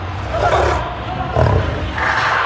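A tigress roars several times in loud, close bursts, each rising and falling, with short pauses between them and no talking.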